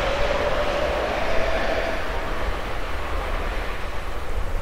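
A train in Final Fantasy VII, a steady rumbling roll of rail noise at constant loudness with a faint whine early on and no speech.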